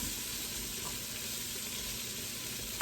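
Turkey wings seasoned with salt, pepper and seasoned salt cooking in a pot, giving a steady, even sizzle and bubbling throughout with no talking.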